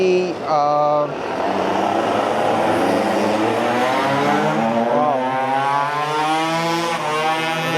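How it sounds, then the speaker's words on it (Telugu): Motorbikes racing past on a practice or race circuit, the engine roar rising and sweeping by loud and close, with rising and falling whine through the whole stretch and a brief voice near the start. "బైక్స్ అయితే వెళ్ళినాయి ఇప్పుడే"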